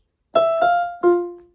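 A short jazz piano figure, three struck notes, the first two quick and close together, the last ringing out and fading, played alone.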